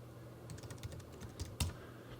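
Keys clatter on a computer keyboard as a search term is typed, a short burst of soft, close keystrokes in a quiet room.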